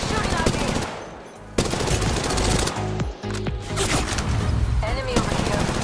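Rapid automatic gunfire in Apex Legends Mobile, dense bursts of shots running almost continuously with a short lull, loud and close, mixed with game effects and voices.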